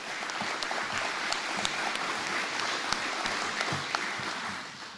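Audience applause at a military change of command ceremony, a steady, moderately distant wash of many hands clapping with a few sharper individual claps standing out, no talk over it.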